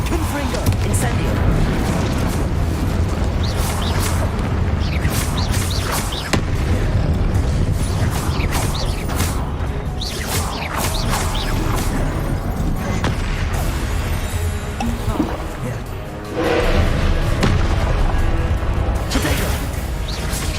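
Repeated Confringo blasting-spell explosions in the Hogwarts Legacy video game, loud booming bursts that keep coming over a dense mix of game sound, with a voice talking throughout.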